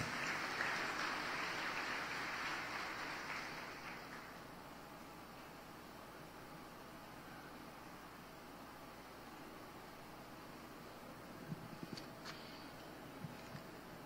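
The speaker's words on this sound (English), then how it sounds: "A round of applause, please." Audience applause at a university nursing clinical graduation ceremony, a steady wash of clapping for about four seconds that fades into quiet room hiss, with a few faint knocks later.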